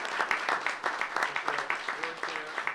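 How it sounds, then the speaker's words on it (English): Audience applause at a school board meeting, a moderate round of clapping with distinct individual claps, and voices talking faintly underneath. "let's give her a round of applause"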